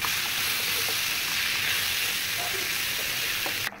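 Tomatoes hitting a hot pan in a home curry cooking on the stove, a loud continuous sizzle and hiss that holds steady throughout before cutting off abruptly at the end.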